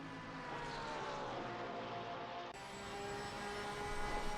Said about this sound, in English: Beautiful flat six sound.